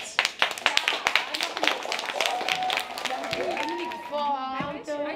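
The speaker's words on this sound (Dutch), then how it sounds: "En een applaus voor deze meiden." Bursts of clapping for a girls' school football team being honoured, sharp and uneven at first, then giving way to children's voices and chatter.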